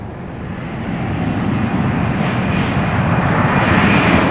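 Airbus A319 airliner landing at Raleigh Durham airport, a steady broadband jet roar that builds gradually in loudness as the aircraft nears, with no voices.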